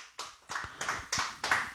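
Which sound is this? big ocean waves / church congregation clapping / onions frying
church congregation clapping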